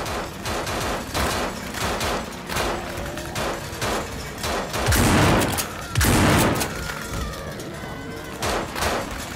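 Mach 10 submachine gun firing in the zombie game No More Room In Hell, heard as repeated loud bursts of automatic fire with short gaps, close and dominant, with brief crashing impacts mixed in.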